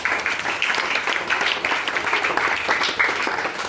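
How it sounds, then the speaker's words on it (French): A church congregation claps and applauds during a worship service, a dense, steady wash of many hands from a large indoor crowd. "Acclamez pour moi"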